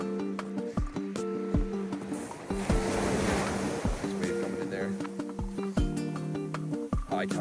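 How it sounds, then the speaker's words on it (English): Ocean surf at high tide rolls and washes steadily along a snowy Canadian shore, with wind buffeting the microphone and sharp intermittent knocks breaking through the roar. "Nice wave over there."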